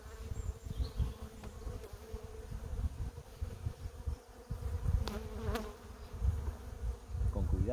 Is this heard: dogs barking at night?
no